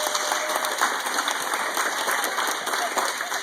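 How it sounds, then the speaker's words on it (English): Audience applause at a stage hypnosis show, a dense steady wash of clapping filling the room at close range, sustained evenly throughout with no pauses. "Ladies and gentlemen, please give these guys a huge round of applause"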